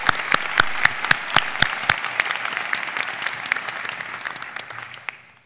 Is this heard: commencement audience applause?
yes